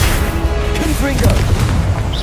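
Confringo blasting spell explosion in the Hogwarts Legacy video game, a loud booming blast amid continuous game noise, with a voice speaking over it.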